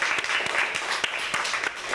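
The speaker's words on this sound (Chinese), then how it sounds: "我们来给秉彦一点掌声好不好？" Classmates in a school classroom clapping for a student, a burst of brisk, uneven handclaps from a small group, steady and fairly close.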